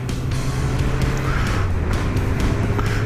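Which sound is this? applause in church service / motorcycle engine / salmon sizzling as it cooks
motorcycle engine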